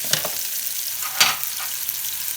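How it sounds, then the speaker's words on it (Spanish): Onion and tomato fry steadily in a pan, giving a continuous close sizzle, with a few sharper crackles and spatters at the start and middle. "Y aquí lo voy a dejar que se fría un momento. Para que suelte todo su sabor la cebolla y el tomate."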